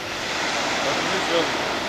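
Sea waves wash onto the shore at Batumi as a continuous broad roar of surf mixed with wind noise, steady and fairly loud throughout.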